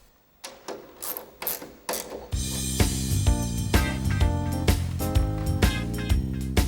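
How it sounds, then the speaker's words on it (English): Locking brackets snap shut on a Siemens Sivacon 8PS busbar tap-off unit, giving a few sharp mechanical clicks and clacks with a ratcheting quality, followed by steady background music. "The unit is now secured by closing the locking brackets."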